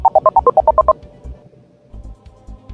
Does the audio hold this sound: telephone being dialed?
yes